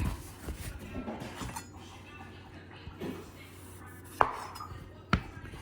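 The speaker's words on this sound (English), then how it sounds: "now I'm going to slice julienne it up" Knife slicing sweet potato into julienne on a cutting board, soft irregular cuts at close range with two sharper knocks near the end, faint room hum behind, no voices.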